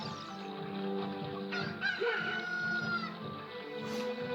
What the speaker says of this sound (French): C'est avec le coq, il s'est réveillé.